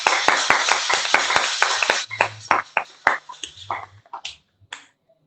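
A church congregation applauding during a sermon, starting with quick, sharp, rhythmic claps that thin out into scattered, fading hand claps before falling silent.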